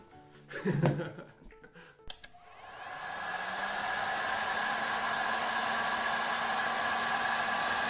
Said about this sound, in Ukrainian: У нас сьогодні є бажання провести випробування цього фена.